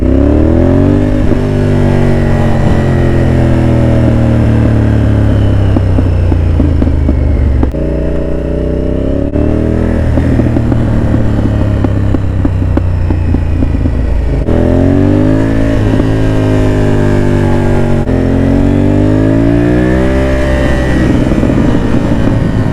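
Sport bike motorcycle engine ridden on the road, revving up and down through repeated rising and falling pitch sweeps with gear changes, loud and close, continuous for the whole stretch without talk.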